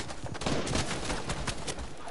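Rapid bursts of video game gunfire crackle through the whole stretch at a steady, busy level, like an ongoing firefight with no voices over it.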